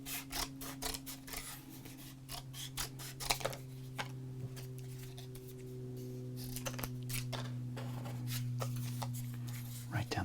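Scissors cutting a baseball card down the center: a run of crisp snipping and crinkling clicks, close and faint, over a steady low hum, with a person speaking quietly throughout.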